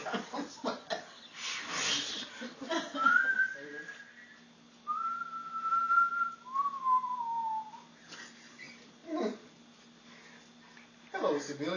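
A person whistles a few long, sliding notes, faint and drawn out, between bursts of nearby talking and breathy noises, at the 1940s Hollywood Canteen.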